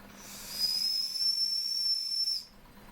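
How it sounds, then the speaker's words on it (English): A Jensen 45 brass boiler model steam engine blows its whistle: one sustained high, shrill tone lasting about two seconds, carried on a soft hiss of escaping steam, close by and with no voices. "we'll have a working whistle as well"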